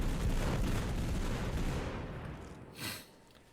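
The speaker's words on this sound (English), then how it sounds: "That's a bombardment grenade." Bombardment grenade explosions in the video game Totally Accurate Battlegrounds make a loud, dense rumble of blasts and crackling fire that fades over a few seconds, then ends in one short sharp burst. No talking.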